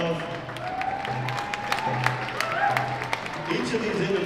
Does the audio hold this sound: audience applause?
yes